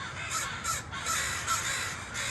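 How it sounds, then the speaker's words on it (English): Many crows caw outdoors, a dense overlapping flock chorus with repeated harsh calls over steady background noise. "the Crows have their annual convention right outside here every year"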